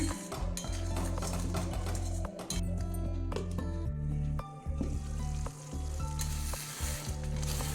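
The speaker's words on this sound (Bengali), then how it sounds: "মশলাটা ভাজা হয়ে গেছে তেল ছেড়ে দিয়েছে" A paste of ground poppy seed, cashew and coconut fries on a low gas flame for a raw jackfruit dish, sizzling steadily up close while a spoon scrapes and clinks against the pan in bursts.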